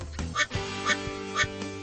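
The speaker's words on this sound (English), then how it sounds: "Blaze collect all the duckies on the Speedway to earn tickets for the Splashtastic Prize Wheel" Three loud cartoon duck quacks ring out at steady intervals as duckies are collected in a children's racing video game at a water park speedway, with game music running underneath.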